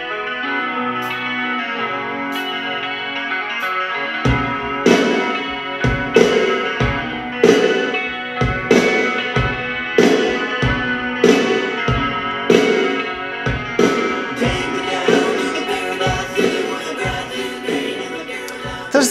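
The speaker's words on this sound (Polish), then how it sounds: "No i posłuchajmy teraz troszeczkę rocka." A rock track plays through a Fenda F580X 2.1 Bluetooth speaker set with subwoofer, steady drum hits and bass kicking in after a softer opening, guitars and full band filling the room, heard alone without talk.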